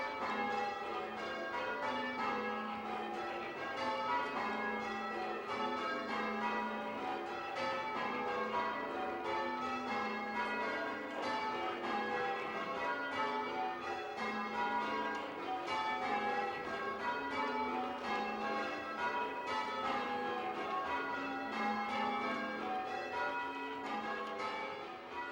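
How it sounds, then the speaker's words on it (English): Church bells change ringing in a Boston steeple: a continuous peal of many bells struck in shifting, rhythmic sequences, loud and resonant with overlapping rings, going on without pause and with no voices. "Change ringing is a style of church bell ringing that arose in Renaissance England."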